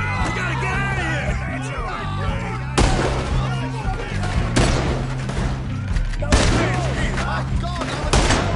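Gunfire crackles through a Red Dead Redemption 2 shootout, with bursts of rapid shots and heavy booms repeating in waves over a dense, loud background, while voices yell and talk amid the fighting.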